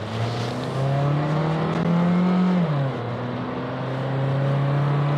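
A second-generation Honda Fit with a modest, not very strong engine accelerates while driving, its steady hum rising in pitch, dipping briefly and then climbing again, close and fairly loud with no talk.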